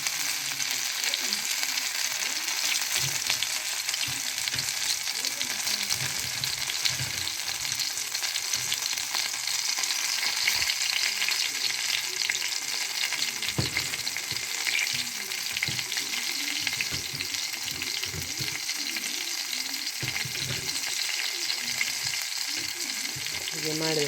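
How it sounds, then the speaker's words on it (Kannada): Bangude mackerel coated in rice flour frying on a tawa over a low flame gives a steady, close sizzle throughout, with occasional soft scrapes and stirring touches and no talking. "ಅಕ್ಕಿ ಹಿಟ್ಟು ಹಾಕಿ ನಾವು ತವಾ ಫ್ರೈ ಮಾಡೋದು, ಎಣ್ಣೆಯಲ್ಲಿ ಬಿಡಲ್ಲ ನಾವು"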